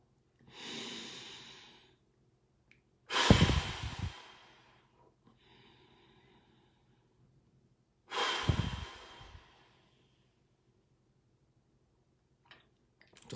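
Slow, deep meditation breathing, several long audible exhales and sighs spaced a few seconds apart with quiet pauses between, close and alone.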